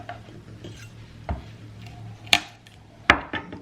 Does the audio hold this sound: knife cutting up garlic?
yes